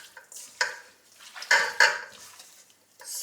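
Goat's milk cheddar cheese curds being stirred in a pot, giving a few soft wet swishes and clinks of a utensil against the side, close by with no talk.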